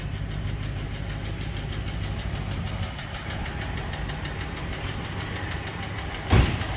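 A Packard car engine idles steadily nearby with a faint repetitive tick running through its low rumble, and one brief louder thump comes near the end.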